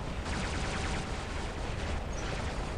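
Continuous rapid gunfire from a player's combat robot in the mech battle game War Robots, a dense, steady rattle of shots that fills the whole stretch at moderate loudness with no pauses.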